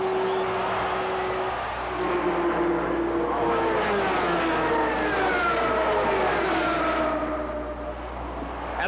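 Indy race cars at the 1987 Indianapolis 500 scream past one after another, engine whines rising and falling in Doppler sweeps over a steady roar, loud and unaccompanied by voices.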